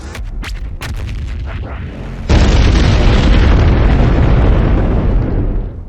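The BFG 10,000 fires at Mars in DOOM Eternal: a few sharp shots ring out, then a sudden, massive, loud boom erupts and rumbles on with a long, broad roar that slowly fades.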